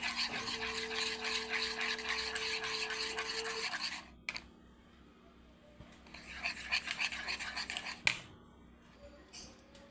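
Batter with toast biscuit crumbs being whisked in a cup, a rapid rhythmic scraping burst for about four seconds, a pause, then a second softer bout with a sharp knock, close by under low background hum.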